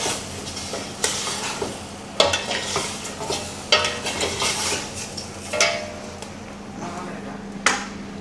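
Chicken tinola with papaya is stirred in a pot, giving repeated close clinks and scrapes of a utensil against the metal over a quiet simmering bubble.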